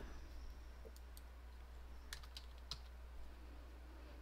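Typing text on a computer keyboard while working in Adobe Illustrator, a scattering of faint light key clicks over a low steady hum, no talk.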